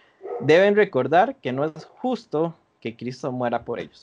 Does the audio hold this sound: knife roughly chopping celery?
no